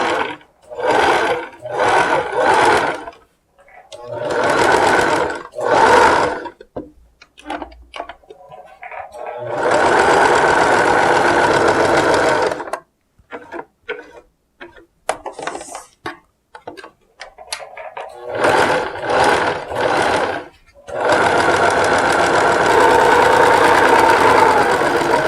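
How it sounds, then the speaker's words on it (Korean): Sewing machine stitching thin fabric for a ribbon scarf, running in several loud bursts of steady whirring stitches separated by pauses with small handling clicks, close and alone with no talk. "그래 놓고 자, 박음질을 시작합니다."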